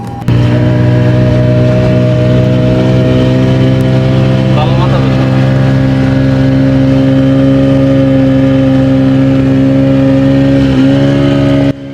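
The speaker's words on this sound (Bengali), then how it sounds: "এই যে আমাদের যাত্রা শুরু করেছে স্পিড বোট" A speedboat's loud, close motor runs at a constant pitch, droning steadily with a strong hum and a slight shift near the end.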